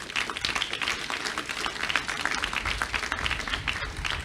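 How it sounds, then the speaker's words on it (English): An audience claps at a college student commons dedication ceremony, producing continuous, fairly distant applause that holds steady throughout at modest volume. "I think he deserves a tremendous round of applause."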